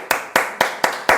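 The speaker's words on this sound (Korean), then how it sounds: "박수!" A church congregation claps in unison, five sharp, loud, evenly spaced claps in a steady rhythm, with no talking over them.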